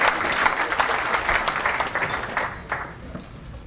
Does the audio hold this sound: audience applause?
yes